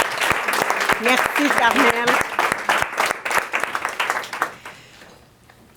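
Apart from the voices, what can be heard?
audience applauding Carmel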